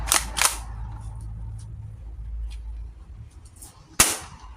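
Cyma CM.350 airsoft pistol firing, with two sharp close cracks near the start and another loud crack near the end, separated by quieter mechanical handling noise.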